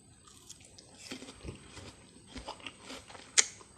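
Crisp Saen Wan melon being bitten and chewed close up: soft, wet crunching and juicy squelches in an uneven rhythm, quiet overall, with one sharper click near the end.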